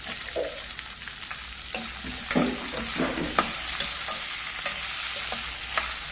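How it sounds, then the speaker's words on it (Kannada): Spicy chicken masala with tomato frying in a pan, a loud continuous close sizzle with intermittent stirring scrapes and clatters throughout, no speech. "ಚೆನ್ನಾಗಿ ಫ್ರೈ ಆಗಬೇಕು."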